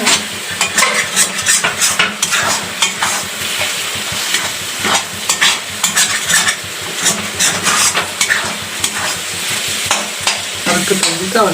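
Eggs fry in oil in a brand-new wok, a loud, steady sizzle broken by frequent scraping and clattering as a utensil stirs against the metal close by, with no talking.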